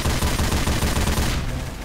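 Defenders' gunfire in Garry's Mod, a loud, rapid automatic burst of repeated shots in a steady rhythm that stops abruptly near the end.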